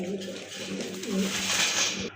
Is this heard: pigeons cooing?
yes